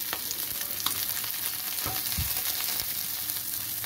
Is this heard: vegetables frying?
yes